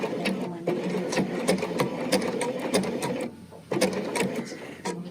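A Bernina sewing machine stitches steadily at close range, its rapid mechanical hum and rhythmic needle clatter running continuously, easing briefly before picking back up.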